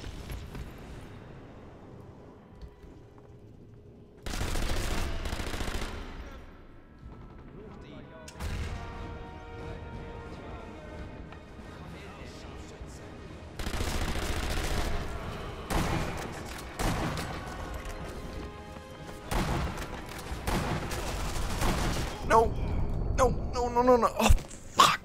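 Gunfire in the video game Sniper Elite V2 comes as loud bursts of shots and booming blasts, some with long rolling tails. Someone talks over the shooting throughout.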